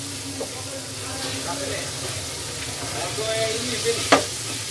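Chicken keema with potatoes and spices frying and being stirred in a pan, a steady sizzle with scraping stirs and a sharp clink near the end.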